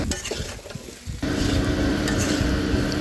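Spices and vegetables being stirred and fried in a wok (kadai), with scraping, clinking of a utensil and a steady sizzle that grows louder after a brief quieter start, close and continuous.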